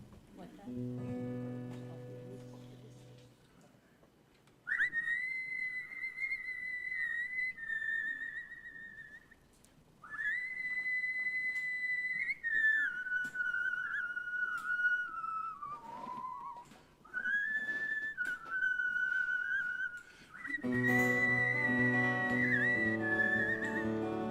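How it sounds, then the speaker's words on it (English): A person whistles a tune at a live songwriter session. The whistling is clear, steady and melodic, with held notes that rise and fall in phrases broken by short pauses, and soft guitar-like tones sit underneath at the start and end. "Let's start whistling and then hope I'm in key when the guitar comes in."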